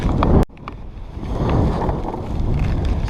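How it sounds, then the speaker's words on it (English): Strong gusting wind buffets the microphone on open water while fishing from a small boat, a heavy low roar with a sudden clunk near the start and constant rushing noise throughout. "it's really pretty stupid for me to even be out here as windy as it is today"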